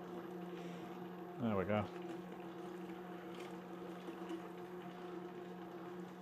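Sunmix stand mixer kneading sourdough at 100 RPM, giving off a steady, low motor hum with a tonal whine throughout, recorded close. A voice speaks briefly partway through.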